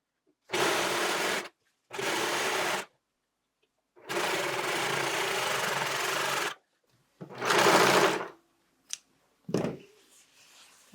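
A sewing machine stitches an envelope French seam in several separate runs: close, steady whirring bursts, one long continuous stretch among shorter ones, with quiet gaps and a few small handling clicks near the end, no talking.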